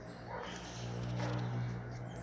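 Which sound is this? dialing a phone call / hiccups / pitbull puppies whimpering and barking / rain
pitbull puppies whimpering and barking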